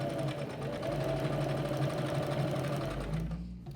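A vintage Singer sewing machine stitches in a steady, fast mechanical whir with rapid rhythmic needle clatter close up, running continuously before slowing at the end.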